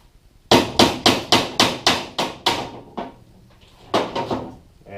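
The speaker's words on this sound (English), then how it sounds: "flip it over, put it next to a brace, and pop it out with a hammer" A hammer knocks a bolt plug out of a J/24 sailboat's toe rail, about seven sharp, evenly spaced strikes, then a pause and a few more blows, close and loud with no talking.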